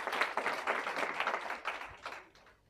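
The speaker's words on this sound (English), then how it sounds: "let's clap for her" An audience at a graduation ceremony gives a brief, fairly faint round of applause, with quick scattered claps that taper off toward the end.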